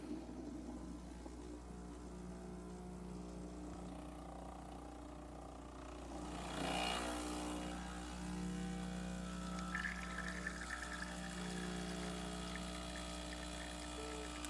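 A Breville espresso machine pulling a double shot after a boiler solenoid valve repair, with a steady low pump drone and mechanical hum that swells briefly as the liquid starts flowing, then settles into an even trickle and whir.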